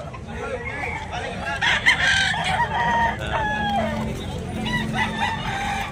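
A bulik gamecock crows and clucks at a rooster sale, its calls rising over a busy crowd where people talk in the background.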